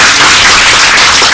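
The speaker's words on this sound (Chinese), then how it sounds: "那我们大家也鼓掌一下这个" Audience clapping at a gathering about overseas Chinese-language schools, a loud, dense, steady burst of applause heard up close without speech.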